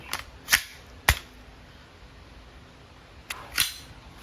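A KWC 75 CO2-powered 4.5mm airgun fires steel balls, giving several sharp, close cracks spaced irregularly with quiet gaps between, no talking.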